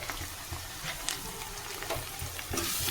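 Ginger-garlic paste sizzles in hot oil in a pan for a small-eggplant curry, a close, continuous frying hiss with occasional spoon scrapes and taps, swelling slightly louder at the end, with no talking.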